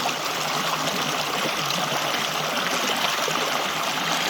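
A West Virginia creek flows with a steady, close, full rush of water, an even babbling wash with no pauses or voices.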